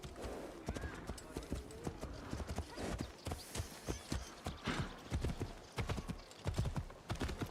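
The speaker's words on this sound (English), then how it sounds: "Perhaps we go by horse." Steady clip-clop of horse hooves trotting on a hard surface in Assassin's Creed Shadows, a brisk regular rhythm that continues throughout with no one speaking.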